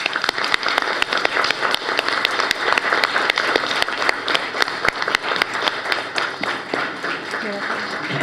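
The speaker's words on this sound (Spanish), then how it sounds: "Pido por favor un fuerte aplauso para la doctora Margit Frenk" Audience applause for Dr. Margit Frenk at a literary award ceremony, dense steady clapping from a crowd with some voices mixed in, holding loud throughout.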